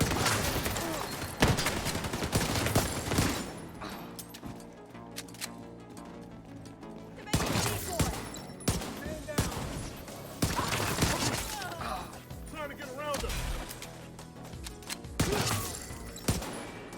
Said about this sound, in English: It feels so good to just shoot stuff in this game.